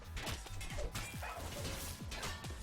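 A dog named Rush barks and yips in quick, repeated bursts, faint and somewhat distant, with a few thumps mixed in.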